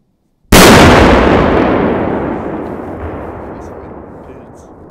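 One sharp, loud Cobra 20 Ultimate firecracker blast followed by a long rumbling decay and echo, outdoors with no talk.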